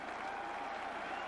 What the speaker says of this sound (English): the sellout crowd cheers their Thundering Herd